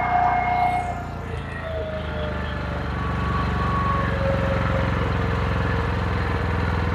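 Briggs & Stratton Q6500W inverter generator running with eco mode off, a steady close engine drone with a low hum that holds constant throughout, no talking.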